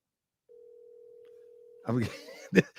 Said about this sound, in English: I'm gonna see if I can get him on the phone.